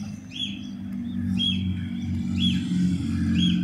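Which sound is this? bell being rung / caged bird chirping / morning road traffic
caged bird chirping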